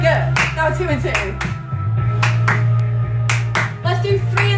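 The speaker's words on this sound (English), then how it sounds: "So it's a disco clap." A choir claps together in a disco rhythm, paired claps in a steady repeating pattern heard close over a sustained low musical backing.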